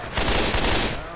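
Dense, loud burst of gunfire in Left 4 Dead 2, a continuous rapid volley filling the whole short moment at close range.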